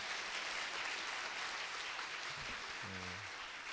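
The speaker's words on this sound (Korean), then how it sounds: "우리 스펜서 박수 한번 해주십시오." A church congregation claps for a young member during a New Year worship service, a soft, distant patter of hands that goes on throughout, with a short voiced sound near the end.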